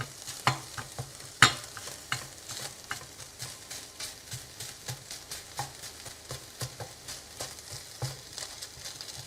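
Chicken breast pieces frying in a pan and being stirred, a steady sizzle broken by regular scraping and clattering strokes of the utensil, close and alone with no voices.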